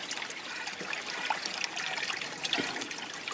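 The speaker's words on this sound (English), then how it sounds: "Water comes out into the pond, into the bin" Water from a koi pond filter bin pours back into the pond with a steady, close trickling and splashing that runs evenly throughout, with no voices.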